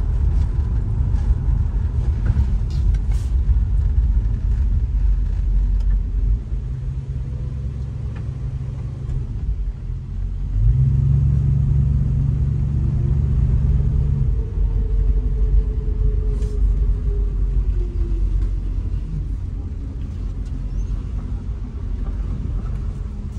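A 1964 Ford Fairlane barn find with 30,000 original miles rumbles steadily while driving, its engine a loud, continuous low drone that swells for a few seconds midway, with no talk over it.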